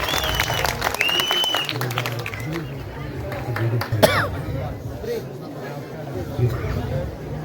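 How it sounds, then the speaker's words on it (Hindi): An audience claps for a young child performer at a staged Mahabharata drama show, with scattered clapping mixed with crowd chatter and a host's voice over the noise. "एक बार इस नन्हे मुन्ने कलाकार के लिए जोरदार तालियां अवश्य हैं।"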